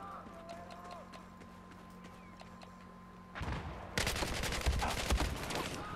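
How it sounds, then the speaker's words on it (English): Gunfire erupts in a Battlefield 4 multiplayer match, rising from a quiet backdrop into loud, dense automatic bursts that fill the second half, with a voice faintly present. "how many times did I shoot him in the face?"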